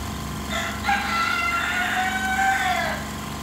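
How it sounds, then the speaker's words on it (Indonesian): A rooster crows outdoors in the open over a steady mechanical drone, its drawn-out call rising and falling for about two seconds at moderate distance. "Suara ayamnya."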